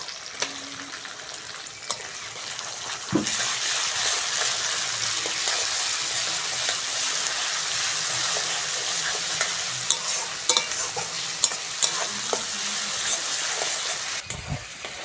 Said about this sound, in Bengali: পেঁয়াজটা ভালো করে ভেজে নিয়েছি এবার রসুন বাটাটা দিয়ে দেবো রসুন বাটা